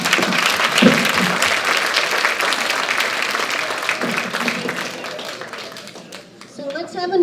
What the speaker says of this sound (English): let's have another great round of applause for the three of our community service recipients